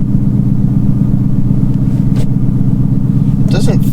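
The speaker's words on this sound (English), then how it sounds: "I'm just running through the gears real quick." A 2019 Mustang GT with an MT-82 manual transmission idles with a steady, loud low engine rumble while the shifter is run through the gears, with a couple of faint clicks and a brief rattle near the end.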